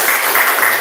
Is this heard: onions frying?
no